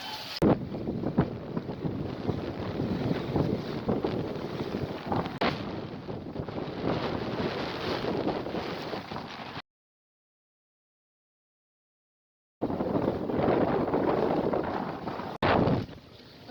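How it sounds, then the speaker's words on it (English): Strong squall winds gusting to 34 knots roar steadily across the microphone while sailing, heavy buffeting gusts, a loud continuous rush broken by a brief silent gap. "Just had gusts of 34 knots."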